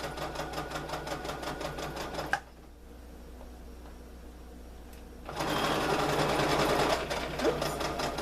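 A sewing machine stitches a fabric trick-or-treat bag in rapid mechanical bursts, running for a couple of seconds, pausing for about three, then starting again.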